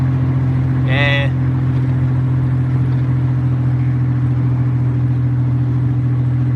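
A leaky V6 car drives with a steady, loud engine drone close by, and a short high chirp breaks in near the start.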